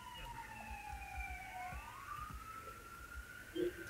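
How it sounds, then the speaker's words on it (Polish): Police siren in the video game MTA wails steadily with a sweeping, falling-then-rising pitch throughout, fairly close and loud, with a brief low thump near the end and no talking. "słyszę policję"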